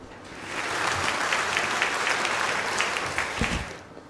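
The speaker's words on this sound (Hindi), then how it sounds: "इस जवाब पर तालियां बनती हैं, बिल्कुल बनती हैं।" Studio audience applause for a correct answer on a Ramadan quiz show, a full, steady burst of clapping that swells, holds and fades out, with no speech.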